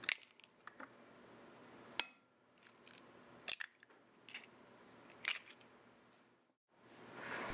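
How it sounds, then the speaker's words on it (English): Two eggs cracked into a bowl while making pecan pie from scratch, a few sharp close taps and clinks against the rim spaced apart, with soft handling noise between and no talking. "So you're going to crack 2 eggs into a bowl."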